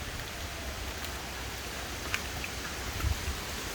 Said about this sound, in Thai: ตอนนี้ฝนก็ยังมีนะ แต่ว่าพายุลมมันไม่ค่อยมีละ